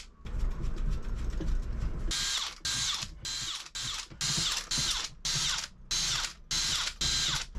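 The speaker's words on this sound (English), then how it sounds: "I'll run a single tiny little number 4 screw in here." A small number 4 mild steel screw is driven into wood for a boat cabinet: a steady power-driver whir, then a rhythmic series of clicking ratchet-like bursts, close and fairly quiet, with no talk.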